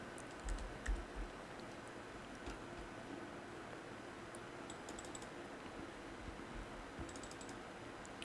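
Computer keyboard keys tapped in short scattered clicks, faint and sparse over quiet room hiss while a Word document is edited.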